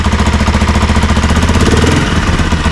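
A small two-stroke moped engine with a new motor idles loudly up close while warming up, a rapid, even putter with a steady rattling pulse throughout.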